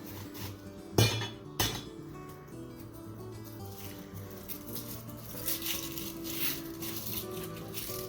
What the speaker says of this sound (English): I take my onion, and I just cut my ends off.